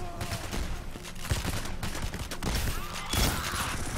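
An automatic sentry turret keeps firing in the bank-heist game Payday: The Heist, a dense, sustained rattle of rapid shots with a few heavier bursts, close and loud throughout.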